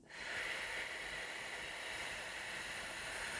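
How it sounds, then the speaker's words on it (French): A slow exhale through pursed lips, as if blowing through a straw, during a relaxation breathing exercise: a soft, steady airy hiss that starts abruptly and holds evenly to the end, close and quiet with no voice. "On bloque la respiration et on souffle par la bouche comme à travers une paille."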